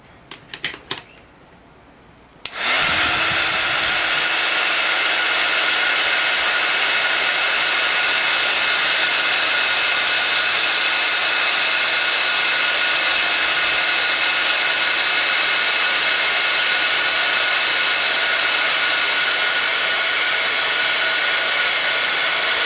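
Heat gun melting embossing powder on cardstock, switching on after a few faint handling clicks and then blowing as a loud, steady whooshing roar with a constant motor whine for about twenty seconds.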